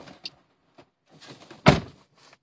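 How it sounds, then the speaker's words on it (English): A single sharp relay click-thunk rings out near the middle as a car door opens, surrounded by quieter rustles and small mechanical taps, close by and otherwise quiet. "you'll hear a little click when I open my door"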